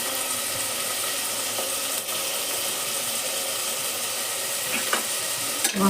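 Spiced kara pongal frying in a pan as it is stirred, a steady broadband sizzle with a few scraping spoon strokes against the metal, close and continuous, with no talking.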